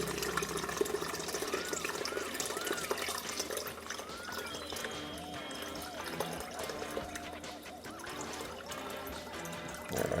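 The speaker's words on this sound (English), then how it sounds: "Let's drain off this brine." Brine drained off a fermented Hatch chili mash, a continuous pouring and trickling of liquid with dribbles and splashes, steady and close, while background music plays.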